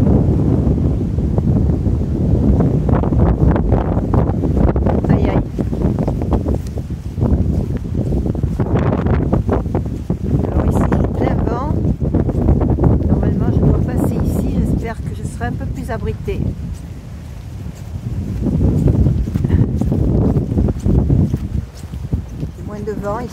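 Strong wind buffets the microphone on a coastal walking route in southwest France, a loud continuous rumbling roar that barely lets up across the whole stretch, with a person talking underneath.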